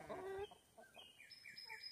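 Chickens cluck close by near muddy puddles on a farm. Several short, bright calls overlap over about two seconds, with no talking.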